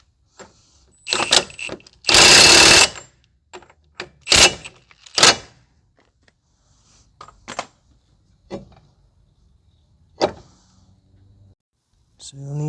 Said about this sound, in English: Just going to temporarily to drive the nut in first